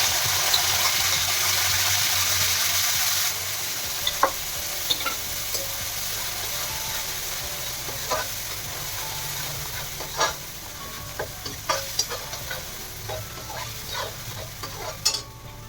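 Masala spice paste, ground in a mixer, sizzling and frying steadily in a pan while jackfruit curry is cooked, with scattered scraping clicks of a spoon stirring it through the hiss.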